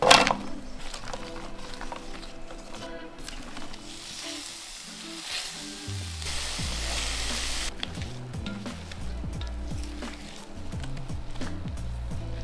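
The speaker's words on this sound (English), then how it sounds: "we're going to fry off the sliced mushrooms and kale" Sliced chestnut mushrooms and kale frying in oil in a pan give a steady sizzle with occasional stirring scrapes, close and moderately loud, while music plays underneath throughout.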